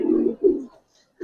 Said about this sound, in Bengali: বাইরে বাইরে একবারে পুরান কবুতর